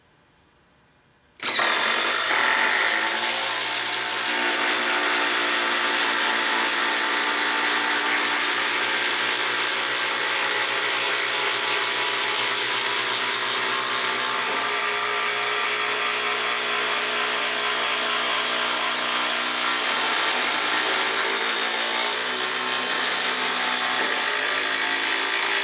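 DeWalt DCF787 and Makita XDT12Z cordless impact drivers start abruptly after a brief quiet moment, then run together in a loud, continuous, close buzzing whir with no talking.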